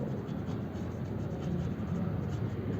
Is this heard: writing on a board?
yes